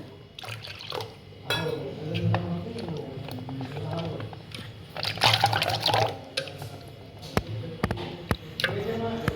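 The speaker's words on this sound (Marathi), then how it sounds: "थोडंसं पाणी घालूया त्यात" Water is poured into yogurt for bread dahi vada, a close liquid splashing and trickling with a few drips and knocks, while a voice talks over it.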